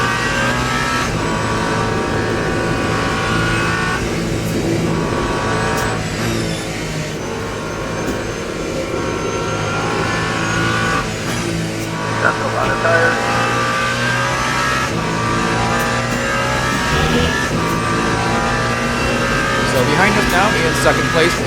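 Race cars lapping the 24 Hours of Le Mans circuit in the Le Mans Ultimate game, with a Porsche through the Porsche curves: steady loud engine drone with rising and falling revs and shifts throughout, under continuous commentary.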